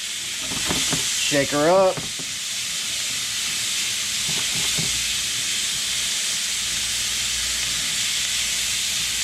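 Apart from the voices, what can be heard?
catfish steaming and sizzling while cooking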